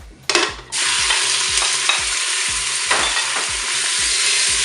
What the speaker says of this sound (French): on va pouvoir commencer quand même à faire revenir eh bien, la viande.